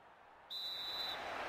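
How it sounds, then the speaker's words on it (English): A referee's single long full-time whistle blast in the football video game FIFA 13, shrill and steady for under a second, rising out of a low crowd murmur that continues after it. "There is the full-time whistle."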